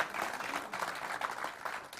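An audience claps steadily, a dense patter of applause that swells slightly in waves, heard from within the room.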